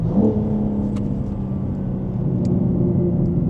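A BMW M4 G82 idles and rumbles with a deep, steady engine tone on downshift, heard up close with a low gurgling burble and a couple of faint ticks, no voices over it.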